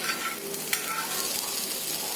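A breakfast dish frying in a pan on low to medium flame while its second side cooks, giving a steady close sizzle with a faint stir or tap near the start.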